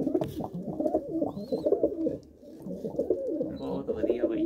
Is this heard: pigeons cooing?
yes